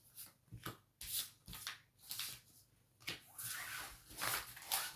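Tarot cards are shuffled by hand before laying out a cross spread: a quiet, close series of papery riffles and soft flicks in irregular bursts, followed by a longer continuous shuffle.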